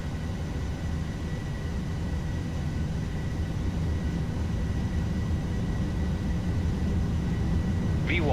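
Boeing 737-800 engines running at takeoff power during a Ryanair departure roll in the FSX flight simulator: a steady, loud low roar and rumble that holds constant throughout, with a brief higher chirp near the end.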